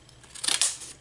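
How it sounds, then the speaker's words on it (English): Ordinary scissors snipping paper for a journal page, one quick close cut with a crisp rustling slice lasting under a second, with no talking. "just use your regular scissors"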